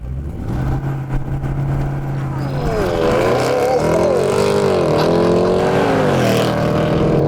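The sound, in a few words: SUV accelerating at full throttle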